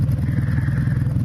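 A Suzuki GSX750SE Katana motorcycle engine under repair revs hard in a short, loud, steady burst of rapid low pulsing.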